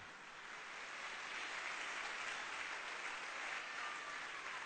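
A live audience at a motivational business talk breaks into sustained applause, a dense, even wash of many hands clapping that swells slightly and holds steady, with no voice over it.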